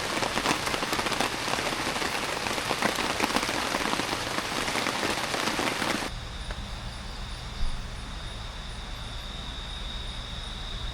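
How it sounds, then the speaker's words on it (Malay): Steady, dense rain patters on a surface for several seconds, then cuts off abruptly to a quieter outdoor ambience with faint insects. "Hujan ni macam terapi. Bunyi titis dia tu buat jiwa jadi tenang."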